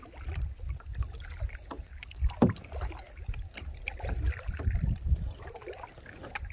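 Kayak paddles dipping and splashing on a calm lake, soft irregular strokes and water swishes close by, with some wind noise and no talk.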